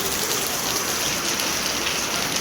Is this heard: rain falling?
yes